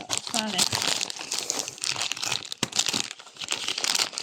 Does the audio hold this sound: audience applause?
no